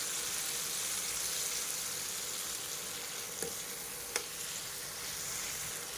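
Tomatoes, curry leaves and coriander sauté in a pan for horse gram chutney, giving a soft, steady sizzle with a couple of faint stirring clicks, quiet and alone.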